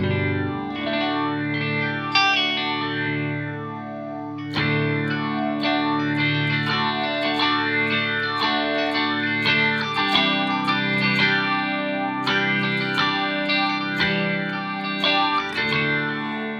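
An electric guitar played through a Walrus Audio Fundamental Chorus pedal, shimmering, wavering chords and single notes ringing steadily and fairly loud, with no voices.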